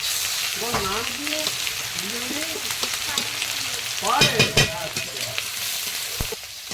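Lentils (dal) frying in a pot at an outdoor picnic cookout, a steady close sizzle with stirring clatter, faint background voices and birdlike chirps.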